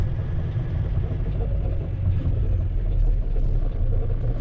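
A new Kenworth truck rumbles steadily while driving along a road, a deep, continuous engine drone heard from inside the cab with no talking.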